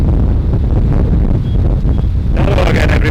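Loud, steady wind buffets the microphone outdoors beside a carp-fishing lake, a continuous rumbling roar that stays strong for the whole stretch.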